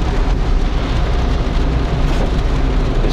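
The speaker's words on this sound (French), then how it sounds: "Ah, il pleut bien hein, quand même." Heavy rain pounds a car during a driving lesson, a dense, steady roar of drops on the body and windshield that stays loud and unbroken throughout.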